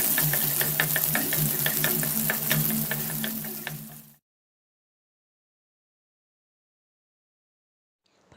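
Small shallots sizzle and crackle in hot oil in a pan with mustard seeds, a steady close frying hiss with sharp pops for about four seconds before cutting to near silence.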